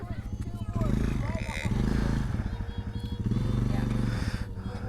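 A dirt bike engine idles steadily in a backyard, giving a low, continuous rumble that swells and eases slightly, with people talking loudly over it.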